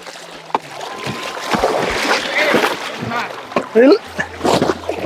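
Water sloshes and splashes as a cloth is dunked in detergent water, with a person talking throughout and a couple of louder splashes near the end.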